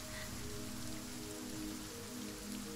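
Steady, dense rain falls without a break, close and even, with no voices.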